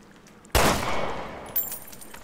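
Gunshot in Resident Evil Revelations 2 on PS4, a single sharp loud blast with a decaying tail, followed by a brief metallic game sound, no speech.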